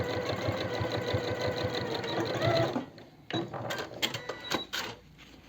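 Sewing machine stitching a line along the edge of a folded facing piece for men's jeans: a fast, steady mechanical whirr for almost three seconds, then stopping, followed by fabric handling and clicks.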